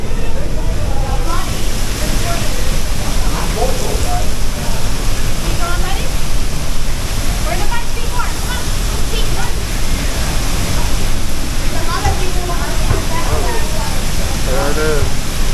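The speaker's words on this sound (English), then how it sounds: "it is where the falls come down" Niagara Falls roars loud and constant, a dense rushing wash of water, with scattered voices talking faintly beneath it.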